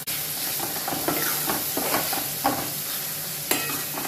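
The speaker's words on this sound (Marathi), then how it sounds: "हे सर्व मसाले तेलामध्ये होऊ देते।" Garlic paste, coriander, cumin, chili and turmeric fry in hot oil over a high flame, sizzling steadily up close while a spoon scrapes and stirs in repeated strokes.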